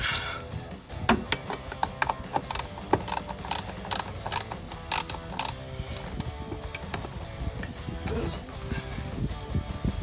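A ratchet with a short socket clicks in rapid bursts while removing bolts during a bed-side rock rail install on a Jeep Gladiator JT, with quick repeated ratcheting runs, brief pauses and occasional metallic clinks close by.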